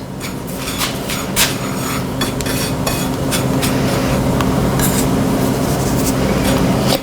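Fish fillet being mixed with a little flour in a home kitchen gives a close, steady rubbing and rasping scrape, with scattered sharper scuffs throughout and no talk.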